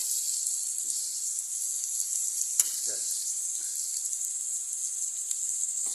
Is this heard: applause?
no